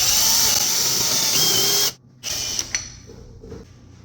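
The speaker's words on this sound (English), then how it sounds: "Then you will take your drill" Power drill boring into a cabinet for a hinge, a loud close whine that stops abruptly, followed by a few brief bursts and clicks as the bit settles, no speech.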